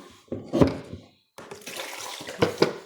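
Water splashes and trickles during washing of grain for injera batter, with soft sloshing and hand rubbing in a bowl, two louder bursts standing out and a short silent gap in between.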